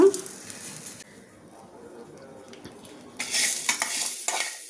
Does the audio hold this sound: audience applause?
no